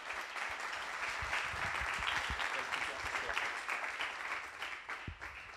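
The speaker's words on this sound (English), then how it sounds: "Please welcome him, a huge round of applause" A crowd at a workshop claps steadily, a sustained round of applause from a room of people, moderately distant, tapering off toward the end.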